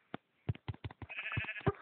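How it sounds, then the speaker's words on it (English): Sheep in the Minecraft video game bleat in a quick run of short, bleating calls, faint and close, with no talking over them. "I'm sorry, sheep, you have to go."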